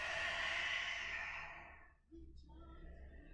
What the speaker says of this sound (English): Take deep breath in. And exhale out.